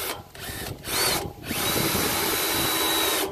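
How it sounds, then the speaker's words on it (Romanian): Wolfcraft 32 mm hole cutter drilling through a stainless steel sink, a steady loud grinding whine that pauses briefly twice before running continuously to the end. "Să zicem că o să dăm gaură aici, un pic trebuie aplicat și în timpul găuririi."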